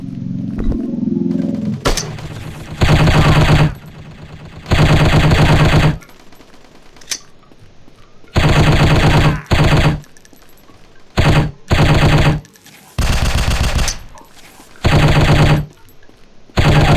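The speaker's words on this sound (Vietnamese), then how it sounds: "bạn chú ý độ tóe đạn của cái con MP5 nó rất là cao" MP5 submachine gun in a shooting video game firing in repeated loud bursts of one to two seconds each, separated by short pauses, close and dry with no talking.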